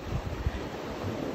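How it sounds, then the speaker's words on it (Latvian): Strong wind buffets a shoreline as small sea waves wash in, a steady rough rush with low gusty rumbles close to the microphone, no voices. "kamēr ir liels vējš un vilnīši"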